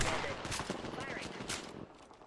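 Gunfire in Apex Legends pops in several quick shots mixed with game noise and a speaking voice, moderately loud and cluttered.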